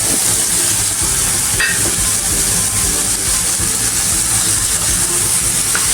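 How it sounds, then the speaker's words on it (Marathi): Capsicum and carrots sizzle in a pan of hot ghee or oil, a constant loud hiss and crackle of sautéing vegetables with an occasional stir, and no talk. "हे सगळं आपण छानसं परतून घेऊया. भाज्या तुपावर किंवा तेलावर टाकलं तरी चालते."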